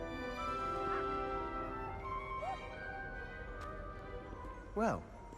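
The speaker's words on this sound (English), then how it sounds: "I can hear like the sound of a dog" A dog barks and whimpers in Hogwarts Legacy, a few short yips and a louder cry near the end over a steady layer of game music and ambience, with speech-like voices present.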